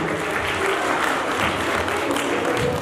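A conference audience at an international conclave on materials, energy and climate applauds loudly and steadily throughout, producing a dense wash of many hands clapping at once.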